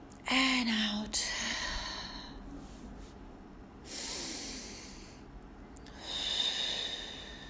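Slow, audible breaths during a Pilates mat class: a sharp nasal inhale near the start, then a few softer drawn-out exhales and inhales spaced a couple of seconds apart, close and fairly quiet.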